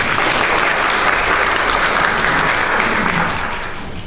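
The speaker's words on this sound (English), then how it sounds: "Let's hear it for Galen" Church congregation applauding at a children's service, a dense, steady wash of clapping from many hands that carries on for about four seconds before tapering slightly at the end.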